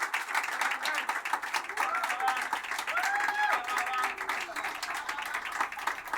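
A church audience gives sustained applause for the musicians, a thick continuous clapping texture with scattered cheers and whistles rising over it.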